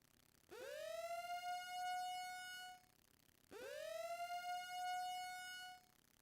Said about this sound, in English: I don't know why that sounds like two sirens.